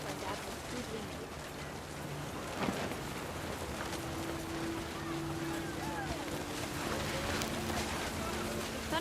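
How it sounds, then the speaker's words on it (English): Steady rain pours down in the video game What Remains of Edith Finch, a continuous hiss and patter with faint tonal game music underneath and a narrator's voice over the top. "The rain came down in buckets then"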